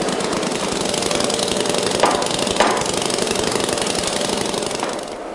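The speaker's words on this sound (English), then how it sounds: "The cope is then rammed full of coarse sand." Coarse sand being rammed into a foundry mould cope, heard as a loud continuous engine-like pneumatic rumble with a few sharper knocks, close and unbroken.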